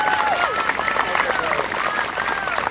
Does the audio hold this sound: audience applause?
yes